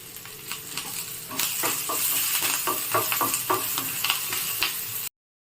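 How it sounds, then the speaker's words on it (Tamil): Garlic, green chillies and onion with asafoetida and ginger sauté in a hot pan, a steady sizzle broken by a rhythm of stirring clicks and scrapes, cutting off abruptly at the end. "பூண்டு பச்சை மிளகாய் வெங்காயம் போட்டு நல்லா வதக்கலாம்"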